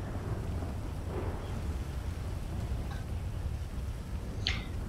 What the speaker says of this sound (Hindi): बहुत तेज बारिश हो रही है बाहर